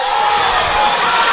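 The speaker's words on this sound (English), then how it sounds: "The crowd goes wild." A packed crowd roars and cheers at a wrestling match, a loud, dense, unbroken wall of voices and shouting that holds steady for the whole moment.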